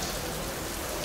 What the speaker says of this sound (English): and it's tipping with rain.